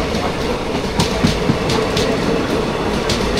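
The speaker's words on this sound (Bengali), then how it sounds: "কাঞ্চনজঙ্ঘা এক্সপ্রেস সঙ্গে দেখা হয়ে গেল।" The Kanchanjunga Express between Sealdah and Silchar, hauled by a WDG4 diesel locomotive, rolls past with a steady heavy rumble and rhythmic clattering wheel clacks over the rails.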